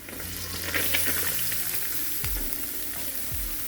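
Onions, cumin, chillies and garlic frying in a pan for gobi manchurian: a loud, continuous oil sizzle with stirring scrapes and a few clunks, no talking.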